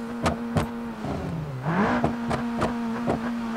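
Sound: car engine revving, wheels not moving, video game BeamNG.drive

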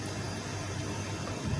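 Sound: water boiling in a pot

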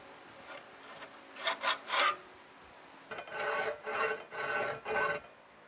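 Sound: cutting metal by hand with a hacksaw

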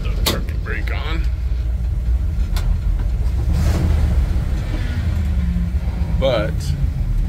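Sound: 1970 Dodge D200 engine running with power steering whine

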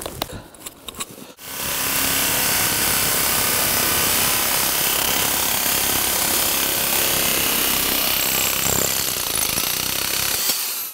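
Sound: drill nibbler attachment cutting metal roofing

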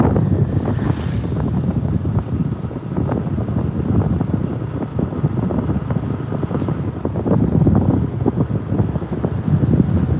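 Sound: cold winter wind over the Nikli haor

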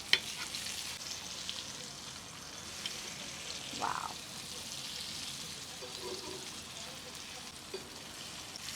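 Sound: pomfret fish frying on griddle

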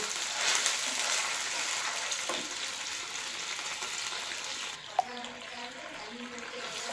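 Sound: stirring vinegar and soy sauce in frying pan

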